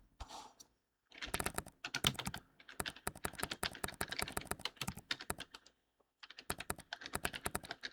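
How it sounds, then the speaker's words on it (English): Steady typing on a computer keyboard, fast bursts of key clicks, close and fairly loud, with brief pauses between runs and no talking. "I'm typing so slowly because of the way my mic is positioned in front of me"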